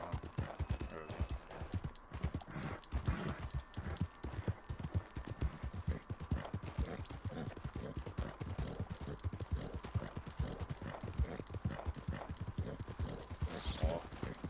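Steady clip-clop of horse hooves in Red Dead Redemption 2, a continuous close trotting rhythm running through the whole stretch with game ambience and a faint whinny-like sound near the end.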